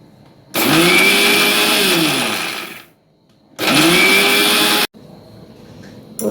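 A kitchen mixer grinder loaded with roasted semolina, sugar and three cardamom pods whirs loudly in two bursts, each lasting a couple of seconds, with a short pause between them and a faint rattle afterward.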